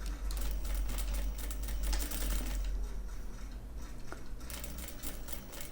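A sewing machine runs steadily, stitching fabric pieces right sides together along a zipper for a small handmade mini bag, with a busy rapid mechanical chatter that softens slightly toward the end.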